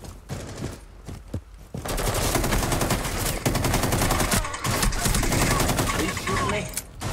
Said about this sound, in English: Are you shooting me?